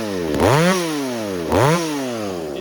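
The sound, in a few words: chainsaw engine running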